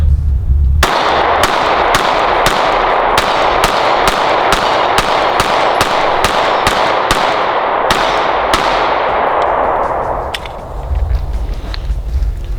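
A Canik MC9 Prime 9mm pistol fires a quick, evenly spaced string of around twenty loud, sharp shots at close range. The shots stop near the end, leaving only quieter background noise.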